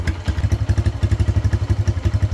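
A Yamaha Jupiter MX motorcycle engine running after a no-start fault, a close, steady low putter with rapid even firing pulses and light mechanical clatter, no voices.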